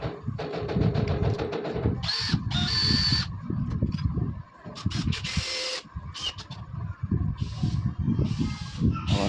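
Power drill driving screws while a door is fitted, heard as several loud whirring bursts of a few seconds each with short pauses between them, over a steady low background rumble.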